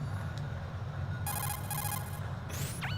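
A codec call rings in Metal Gear Solid 2, repeated electronic ring bursts in a steady pattern over a low game hum, followed by a rising then falling synthetic chirp.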